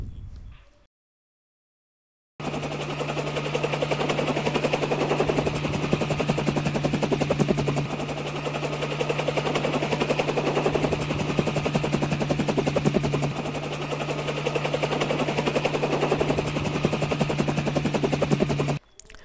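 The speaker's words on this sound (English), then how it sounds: "Here helicopter landed and camera zoom in." Helicopter landing, a loud continuous rotor thump and turbine whine running steadily for most of the clip after a short silent gap at the start, with no voices.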